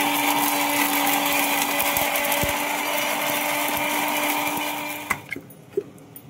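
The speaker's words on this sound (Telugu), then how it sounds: "ఇది మేము వేసుకుని మిక్సీ పట్టుకుని వస్తా" A mixer grinder grinds asafoetida pieces with a loud, steady, close whirring drone for about five seconds. It then shuts off into near silence, broken by a few light knocks.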